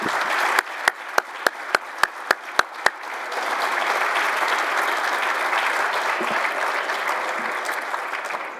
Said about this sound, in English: please join me in a big VHawk round of applause for all 4 inductees